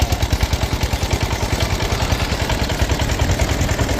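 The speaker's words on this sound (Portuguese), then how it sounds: "Eles nunca viram o que é motor de sisal. Vou mostrar pra vocês. Vai virar o motor." Sisal fibre processing motor running loud and close, a steady rapid pulsing engine chug with mechanical clatter and no talk.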